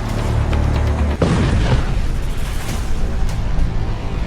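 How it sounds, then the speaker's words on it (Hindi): Heavy bombing blast on an oil tanker at sea: a sustained loud, rumbling roar with a sharp boom a little over a second in, followed by crackling debris and continuing low rumble throughout. "तेल के जहाज पर बमबारी"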